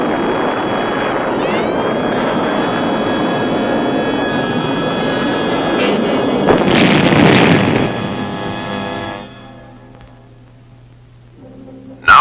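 A surface-to-air missile launch at Fort Bliss, a loud sustained roaring rush with a sharp burst partway through, then fading to a low rumble before a sudden loud hit at the end.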